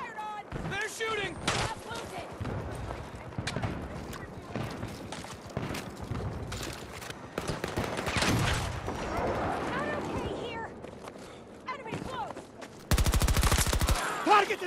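Rapid bursts of video game gunfire crackle in and out across the whole stretch, some shots close and loud, with a heavy sustained volley near the end, mixed with other battle noise and voices.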